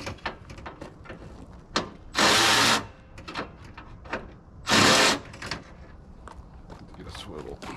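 Loosening the hood hinge bolts on a 90s Chevrolet Silverado pickup with a power tool gives two loud, steady whirring bursts of about half a second each, set among clanks and light handling noises.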